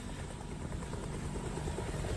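A UH-1 Huey military helicopter flies close and loud, its steady rotor chop and engine roar filling the whole short stretch without voices.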